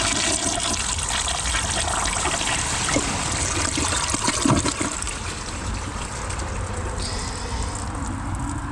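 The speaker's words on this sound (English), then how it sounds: "let's see which one does better on the bowl rinse" A Kohler Wellworth Ingenium toilet flushes and rinses its bowl, with steady loud rushing water throughout, then trickling as the bowl refills.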